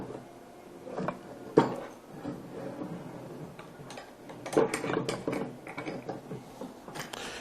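A Stromberg Carlson electric trailer jack retracting gives a mechanical whir of gears with ratchet-like ticking and a few sharper clunks, moderately loud and close, with no talking.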